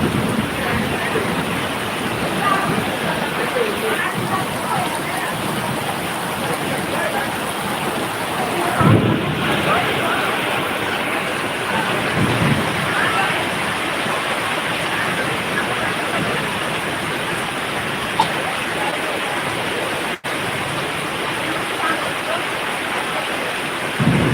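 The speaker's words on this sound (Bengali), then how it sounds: "বৃষ্টি বৃষ্টি পড়ে বৃষ্টি পড়ে" Steady rain pours down in a village, a dense, continuous hiss of falling water that holds at an even level throughout, with a few slightly louder swells and no clear voices.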